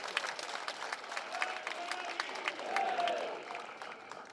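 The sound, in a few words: audience applause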